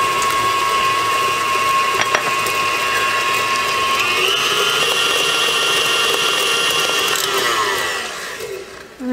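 An electric mixer whirs steadily while creaming muffin batter with an egg for pina colada muffins, a close, continuous mechanical drone with shifting pitch that winds down and stops at the end.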